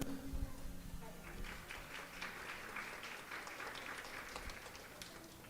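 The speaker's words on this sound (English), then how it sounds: "Please a good applause for her." Applause from an audience at a school cultural theater fair, a modest spread of clapping that builds after a brief moment and continues steadily, somewhat distant and soft.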